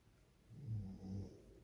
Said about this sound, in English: You might be able to hear the puppy snoring away.